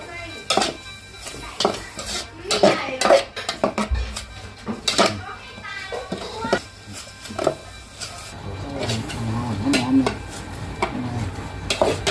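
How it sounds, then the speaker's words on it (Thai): Mushrooms for an Isan-style minced mushroom larb are dry-roasted in a pan, with repeated metallic scrapes and clinks from the utensil close up, while someone talks over part of it. "เราก็จะ คั่วให้สุกก่อนนะทุกคน"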